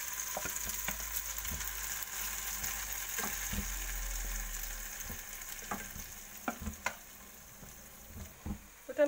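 Potatoes fry in hot oil with a steady, close sizzle, scattered crackles and pops, and occasional utensil clicks against the pan, no voices.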